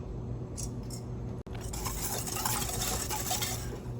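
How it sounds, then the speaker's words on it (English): Barbecue sauce ingredients, including chili powder, are whisked together in a bowl, giving a faint, continuous scraping and clinking stir at close range with no talking. "we're supposed to whisk this together"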